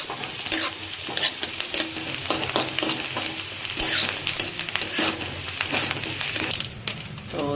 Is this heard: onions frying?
yes